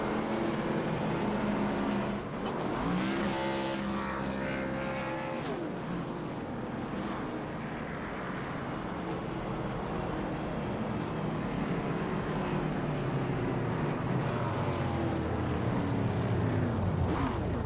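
An ARCA race car does a burnout after winning at North Wilkesboro, a loud sustained engine roar with rising and falling revs heard from a distance across the track, no talk.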